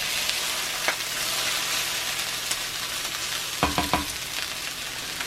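Bacon frying in a cast iron pan over lowered heat, a steady soft sizzle and crackle with a few clinks of a utensil against the pan near the end, no voices.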